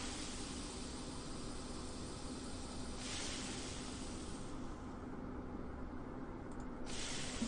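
An aerosol spray can hisses in the video game Harrowed Halls, a steady broad hiss that carries on for several seconds and shifts partway through, heard alone without talk.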